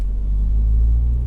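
Road traffic gives a steady, loud, low rumble that holds evenly throughout without breaks.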